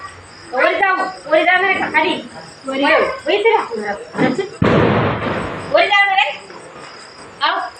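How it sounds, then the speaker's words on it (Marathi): A 12-shot firecracker set off during Diwali celebrations bursts into a loud, dense, crackling blast lasting about a second, with women and children chatting excitedly before and after it. "मी लावते 12 शॉटचा फटाका"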